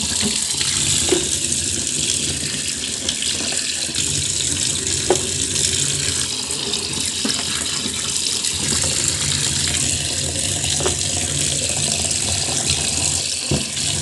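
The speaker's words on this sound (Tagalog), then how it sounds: "Ngayon naman po ay hugasan na natin ang malunggay" Moringa leaves are rinsed under a running kitchen tap, producing a steady hiss and splash of flowing water with occasional clinks and rustles of handling, close and continuous for the whole stretch, without any talking.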